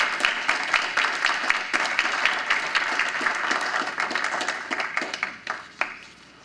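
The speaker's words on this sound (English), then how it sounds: "Please join me in a round of applause for El Pollo Loco" A school board meeting audience breaks into applause, a dense wash of clapping that holds steady and then thins out into a few scattered final claps.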